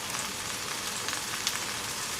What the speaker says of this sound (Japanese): これジュージュー言ってきたでしょ